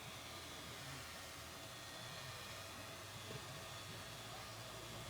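FLEX 24V drywall sander running with its cordless dust-extraction vacuum switched on: a steady, broad, even whooshing hiss that stays constant throughout, with no talking.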